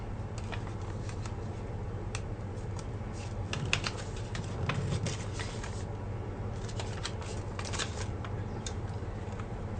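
Paper is folded and creased by hand, soft crisp rustles and brief pressing scrapes repeating quietly at close range.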